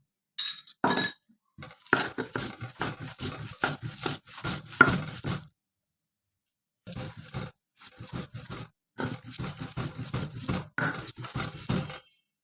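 Kalo jeera (black cumin) bharta being mashed by hand with fried dried red chili, fried garlic and salt, in bursts of close gritty rubbing and crunching with short pauses between, with clinks at the start.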